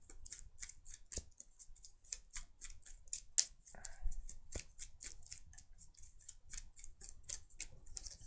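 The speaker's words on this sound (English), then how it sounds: "Love shuffling cards with sleeves." Sleeved playing cards being riffled and shuffled close up, a quick run of crisp, papery snaps and flicks in irregular bursts over a quiet background, with a few sharper knocks.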